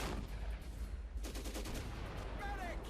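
Distant gunfire crackles in Sudden Strike 3, a World War II strategy game, as quiet scattered shots and bursts under a low, steady background.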